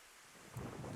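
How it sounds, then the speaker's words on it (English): Heavy rain and thunder in the visual novel game Higurashi form a steady wash of downpour, with a deeper rumble swelling in partway through, quiet and without voices. "The rain outside was coming down even harder."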